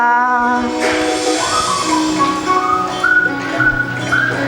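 People whistling together in a school class, a sequence of clear melodic notes at varying pitch with a few overlapping whistles, fairly close and loud.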